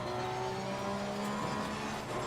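A Porsche 991 II race car engine in the Assetto Corsa Competizione video game, at Imola, holds a steady, moderately loud droning tone with fairly even pitch throughout.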